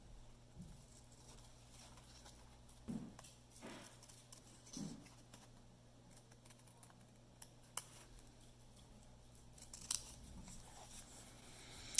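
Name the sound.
scissors cutting paper plasmid model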